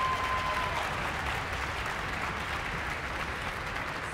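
An audience at a Philadelphia high school music festival concert applauds, with a dense, steady wash of clapping from a large crowd that holds evenly throughout with no talk.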